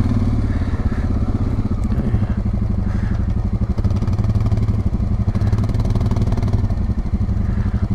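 Suzuki King Quad 750 ATV engine running steadily and loud up close on a mountain trail ride in Idaho, a continuous mid-pitched drone with mechanical clatter as it shifts into low gear, no talking.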